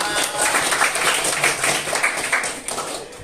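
Class of eighth-grade students clapping together in a classroom, a steady, fairly loud wash of many hands lasting the full three seconds with no pause.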